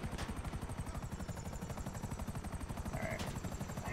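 A failing helicopter in Grand Theft Auto V, its rotor beating in a fast, even throb under a thin whine, steady and close, with a couple of brief sharp cracks over it.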